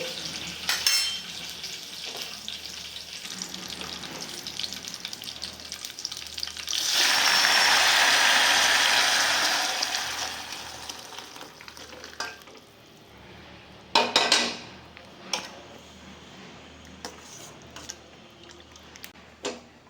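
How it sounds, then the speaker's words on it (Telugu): Tempering spices for rasam crackle and sizzle in hot oil in a home kitchen, with a loud hissing burst in the middle, scattered stirring and utensil clinks before and after. "రసం తాలింపు అయిపోయింది కదండి"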